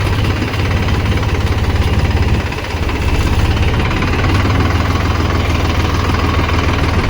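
A tractor's diesel engine, with a rotavator hitched on, runs steadily and loudly up close, a dense low throbbing rumble that dips briefly once before carrying on without a break.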